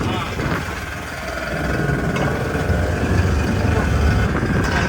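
Motorboat engine idling and running steadily after the anchor is hauled up from muddy water near Kadamakkudy Island, Kochi, a close mid-pitched drone under people talking.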